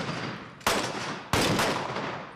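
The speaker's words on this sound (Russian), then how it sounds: "Стрельба как в экшн-фильмах, но это не какая-то постановка. Реальное оружие и реальные мишени." Two sharp, loud gunshots from real weapons at a shooting range crack close by about half a second apart, each leaving a ringing tail of echo.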